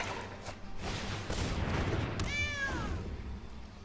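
Cat meow from the MTG Arena card game, one short rising and falling cry that comes after a rumbling burst of game effects and a sharp crack, with no speech.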